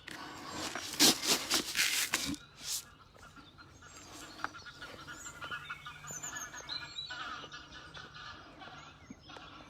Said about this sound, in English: Bloody geese. Bugger off, goose.